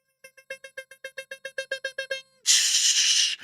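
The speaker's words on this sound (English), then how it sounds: "That is the Morse code message of the night" Morse code message tapped out as a steady run of about fourteen short, evenly spaced tonal beeps, loud and close, cut off by a sudden burst of bright, hissy noise at the end.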